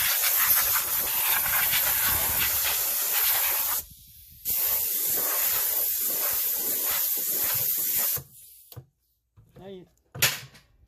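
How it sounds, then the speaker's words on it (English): Compressed air blasting debris off brake drum parts on an old fire truck, loud sustained hissing bursts with a brief pause, then short spurts and clunks at the end. "I want to blow any debris off of"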